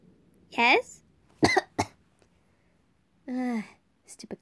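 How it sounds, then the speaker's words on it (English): Several harsh, close coughs come in separate bursts with short silences between them, the last few quick and clipped. "stupid cough."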